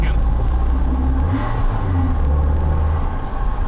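A Fiat Tempra 2.0 16v fitted with a Race sports intake filter revs hard nearby, its engine note climbing and holding in a loud, steady roar with a brief dip as it is pushed again.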